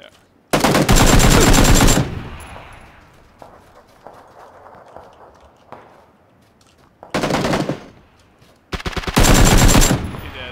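Loud bursts of automatic rifle fire and single shots ring out during a first-person shooter firefight involving a Kar98 rifle, with quieter footsteps and distant shots between the heavy volleys.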